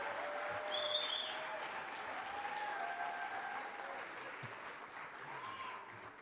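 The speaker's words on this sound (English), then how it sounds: "can we pause to applaud all of those folks who are PhillyCAM creators in this room?" An awards-night audience applauds PhillyCAM creators with a steady wash of clapping, moderately distant, while a few voices and cheers rise faintly through it.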